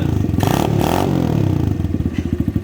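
A Kawasaki KLX110 pit bike's small single-cylinder engine, with modified intake and exhaust, idles with a rapid putter, blips loud twice in quick revs, then settles back into an uneven chugging idle close by.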